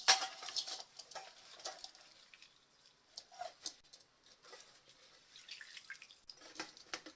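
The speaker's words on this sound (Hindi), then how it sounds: "अब धनिए को छलनी में डालेंगे।" Washed coriander leaves and their water tipped from a pot into a metal strainer, giving faint scattered drips, patters and light metallic clinks in a quiet kitchen, with no one speaking.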